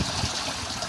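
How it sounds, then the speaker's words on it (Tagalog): Water trickles and drips from a homemade PVC airlift aquarium filter, a steady soft splashing stream with a faint bubbling texture, close and continuous. "tumutulo na yung tubig galing dun sa"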